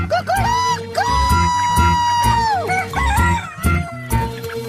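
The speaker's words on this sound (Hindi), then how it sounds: "नूरा चाचा 10 साल से यहाँ मुर्गी खाना चलाता है।" Rooster crowing repeatedly at a poultry farm in Rahim Yar Khan, Pakistan, with long drawn-out calls alongside chickens clucking, close and loud, in a busy chorus of fowl.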